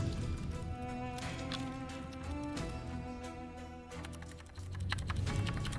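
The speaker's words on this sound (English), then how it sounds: "Y'all hear my typing?" Computer keyboard typing, a steady run of quiet close keystrokes under a continuous background of game music and ambience, with no talking.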